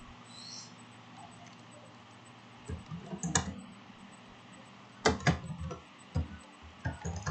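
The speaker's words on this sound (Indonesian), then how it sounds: "Kemudian kita ketikkan script" Keystrokes on a computer keyboard while typing a JavaScript script for Node.js: quiet at first, then scattered clusters of sharp, close taps with brief pauses between them.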